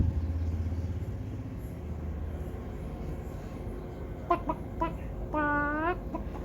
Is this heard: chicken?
yes